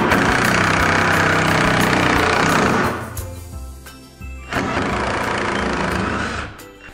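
A power drill runs loud and continuous for about three seconds, dips briefly as the motor eases off, then whirs up again and keeps running until a sudden stop near the end.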